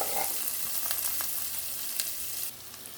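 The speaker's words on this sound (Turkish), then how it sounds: "3 dakika soğanımı kavurdum" Onion and garlic sizzling in melted butter in a pan, a steady close frying crackle with faint stirring clicks, dropping slightly quieter near the end.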